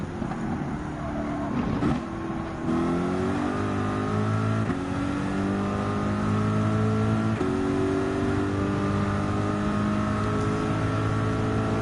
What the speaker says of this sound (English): just going to keep revving up onto the limit